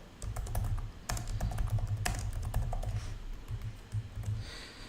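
Account details being typed on a computer keyboard, heard as a close, quick run of tapping key clicks with brief pauses and no talking.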